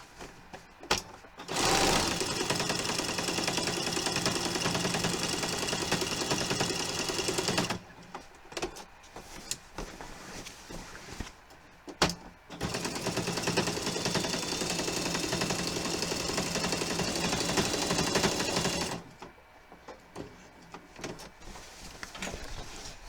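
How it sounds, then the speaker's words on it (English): A sewing machine quilting fabric runs in long steady bursts of fast, even stitching, stopping briefly between runs, close and clear with no voices. "some lines I will go over a couple times because every single black part is going to get quilted and sewn"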